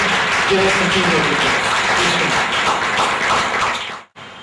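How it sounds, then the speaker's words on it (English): Warm audience applause at an education forum, continuous clapping from a large crowd, fairly loud, cutting off abruptly near the end. "Let's give him a warm hand of applause"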